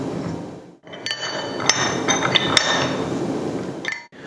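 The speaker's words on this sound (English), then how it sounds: "Thread on the bit and tighten with wrenches." Steel wrenches tighten a core drill bit onto its quick-release coupling, giving metallic clinks and a few sharp clanks over a continuous scraping, grinding noise, close up and with no talk.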